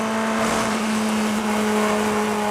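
Race car at the 2016 6 Hours of Spa endurance race screams through Eau Rouge, a loud, sustained high-revving engine note held nearly flat throughout, with no obvious lift and no voices.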